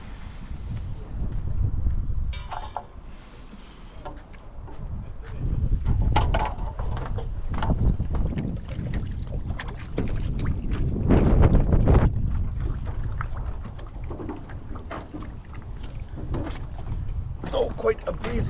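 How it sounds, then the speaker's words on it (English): Gusty wind buffets the microphone out on the water at a rowing venue, a continuous rough rumble with shifting surges and occasional mechanical clicks from the boat. "quite a breezy one this morning, out on the water"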